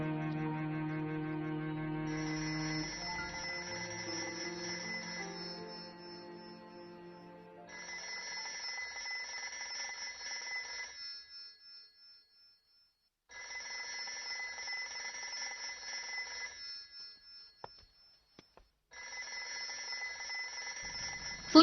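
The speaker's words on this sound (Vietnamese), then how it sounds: "Phu nhân, điện thoại." A telephone rings in repeated long bursts separated by pauses, fairly faint, with a musical passage fading out at the start and no talking.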